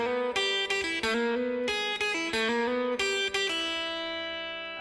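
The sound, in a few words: electric guitar hammer-on and pull-off lick from a solo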